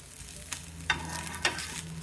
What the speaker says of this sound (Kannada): ಇದಕ್ಕೂ ಕೂಡ ತುಪ್ಪ ಹಾಕಿ ಬೇಯಿಸ್ತಾ ಇದ್ದೀನಿ